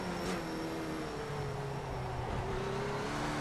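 Skip Barber race cars accelerating off a standing start at Spa in iRacing, a steady loud engine drone with rising tonal whine, continuous and close, with no talking.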